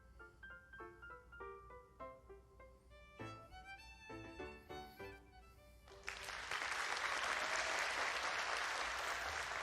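An audience breaks into loud, sustained applause after a dance performance, the clapping swelling in and staying dense over the last few seconds after a passage of plucked, tuned music.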